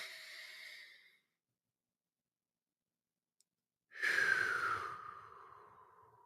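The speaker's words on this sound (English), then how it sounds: "learning to just take a long, deep breath" Slow, deep breathing in a quiet room: a soft exhale that fades away, a long pause of near silence, then a fuller, louder breath that slowly trails off, close and alone.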